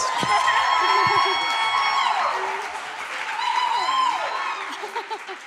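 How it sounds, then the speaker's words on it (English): An audience at a live event bursts into loud applause mixed with cheering and whoops, continuous and crowded, with shouts and whistles rising above the clapping. "Please give them a round of applause."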